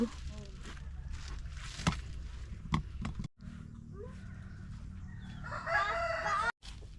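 A rooster crows loudly nearby on a mountain, its long call rising near the end, while people talk in the background and other fighting roosters and birds cluck.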